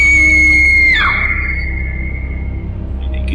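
A woman's loud, piercing scream in a Hindi horror story, a sustained high shriek that abruptly drops in pitch and trails into a long, fainter wail over a low rumbling background.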